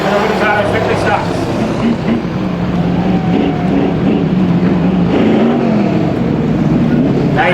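Victory stock cars race in a heat at Star Speedway, a steady loud roar of several engines circling the track, heard over a public-address announcer calling the race.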